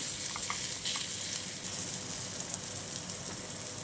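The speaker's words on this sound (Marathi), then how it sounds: "दोन मिनटं परत फ्राय करायला ठेवूया" Whole bangda mackerel frying in a pan, a soft continuous sizzle and crackle with faint spattering pops, steady and unbroken, no voices.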